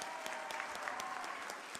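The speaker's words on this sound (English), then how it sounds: "we gotta give Mr. Giff a super special round of applause" A quiz bowl audience claps together in steady, even applause that runs evenly throughout, moderately soft and without any voices over it.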